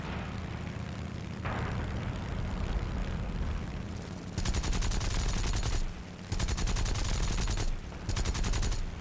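Aircraft cannon fire from a fighter in War Thunder comes in loud, rapid bursts of three or four seconds over a constant engine drone, with brief pauses between bursts.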